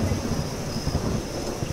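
Rainfall with low rolling thunder in the horror video game Welcome To Hanwell, a steady hiss of rain under a soft, muffled rumble, fairly quiet and with no talking.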